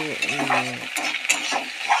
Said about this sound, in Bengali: তো শুটকিগুলো দিয়ে দিলাম, দেখো ভাজা ভাজা হচ্ছে